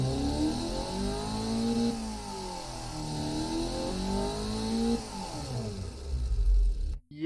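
A naturally aspirated supercar engine in the game Automation revs hard, pitch sweeping up and down through repeated gear changes, loud and continuous, then cutting off abruptly.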